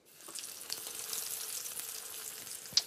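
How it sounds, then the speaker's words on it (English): Soft, steady sizzle of chicken pan frying in hot oil, with faint crackles and a brief sharper pop near the end. "So we're just going to start pan frying these"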